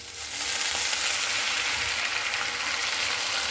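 Spice masala frying in a pan, with water added to it, gives a loud, steady hiss and sizzle with faint stirring scrapes, close up and without talk.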